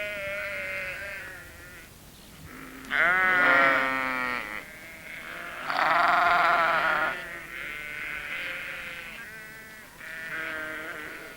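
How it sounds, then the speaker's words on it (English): Sheep in the children's cartoon Postman Pat bleat several times, loud wavering cries close by that overlap and trail off, set against a quiet background. "The sheep were glad to see them."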